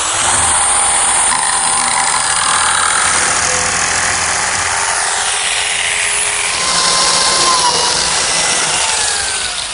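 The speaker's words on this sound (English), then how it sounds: "Now what I have to do is notch the plywood so that this extension will properly fit into the waist." A power tool cuts a notch in the plywood back of a pine clock base, a loud continuous high-pitched whine with grinding and rubbing texture that holds steadily for about ten seconds, very close and alone.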